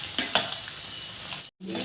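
Chicken bones crisp-frying in a pan for chicken pickle, a steady crackling sizzle with a few clinks of a stirring spoon against the pan, briefly cutting out before the frying resumes.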